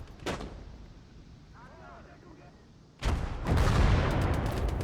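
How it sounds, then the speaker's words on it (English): Mortar fire in a WWII real-time strategy game: a sharp report early on, then a heavy rumbling barrage of blasts and gunfire that swells loud and stays dense, with a voice speaking over the battle. "Do we have a mortar already firing?"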